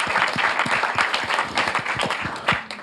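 Audience applause at an awards ceremony, a dense, steady crowd clapping throughout that eases off near the end.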